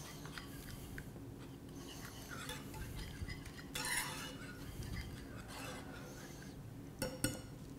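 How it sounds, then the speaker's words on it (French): Eggs being whisked in a sauté pan off the heat for scrambled eggs Argenteuil, with soft, quiet scraping and light clinking of the whisk against the metal. "Sortir la sauteuse du feu et incorporer les œufs. Les fouetter hors du feu."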